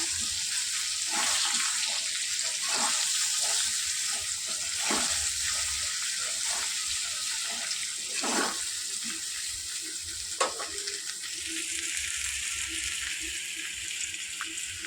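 Ginger paste, ground coriander and cumin sizzling as they fry together for Bengali shukto, with a bright, steady close hiss punctuated by scattered stirring clicks and scrapes.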